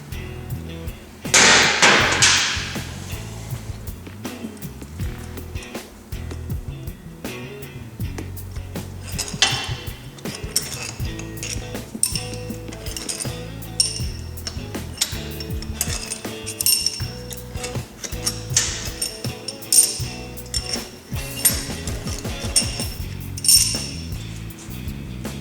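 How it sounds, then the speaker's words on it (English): Cylinder head bolts being removed from a Polaris RZR 800 engine in a shop, with scattered metallic clinks, taps and tool handling throughout, including a louder clatter near the start. "Now we've got all the pressure off of our bolts, then we'll just remove all 6 of them."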